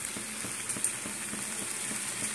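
Potato chunks cooking down in a spiced masala in a pan for a potato curry, giving a steady soft sizzle with faint, regular scraping stirs, close and fairly quiet, with no talk.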